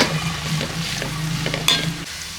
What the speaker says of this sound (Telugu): ఇవైతే కొంచెం ఫ్రై అయినాయి